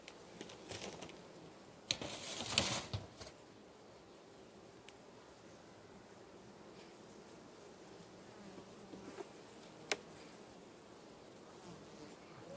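Honeybees from an open hive in September hum quietly and steadily, close by but faint, with a brief burst of handling noise and clicks early on.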